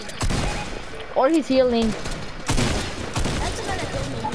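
Rapid bursts of gunfire in the video game Fortnite crackle in the background, with a sharp volley near the end, while players chatter over them.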